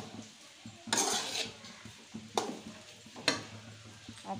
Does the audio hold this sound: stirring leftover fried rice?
yes